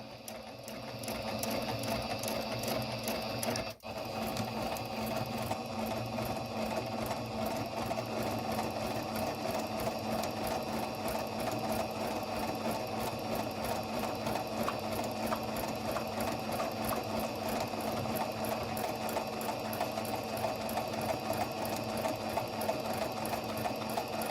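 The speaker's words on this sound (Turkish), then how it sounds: "görmüş olduğunuz üzere makinamız ileri geri kendisi bakın şu aparat yardımıyla iliği nasıl açacağımızı güzelce kendisi ayarlıyor" A Singer Brilliance 6160 sewing machine stitches a buttonhole with a steady, rapid mechanical chatter that runs continuously, with only a brief dip early on.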